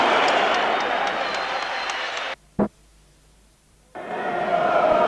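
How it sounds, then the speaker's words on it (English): Boxing arena crowd at Nigel Benn vs Steve Collins, a loud, dense roar of cheering that cuts out abruptly, leaving near silence broken by one brief thump, then resumes as strongly. "The crowd very much pro-Benn."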